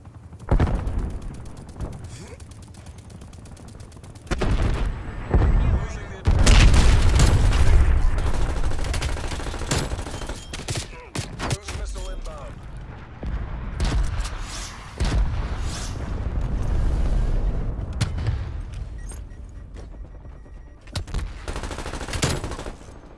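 Team deathmatch in Call of Duty: Black Ops Cold War, with bursts of automatic gunfire, rapid volleys and mechanical clatter coming in waves between quieter gaps, under occasional game announcer voice lines.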